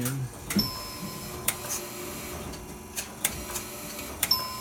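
Mechanical chattering and ticking from telephone exchange paging relay equipment cycling steadily, with sharp clicks and bursts at irregular intervals over a constant background whir.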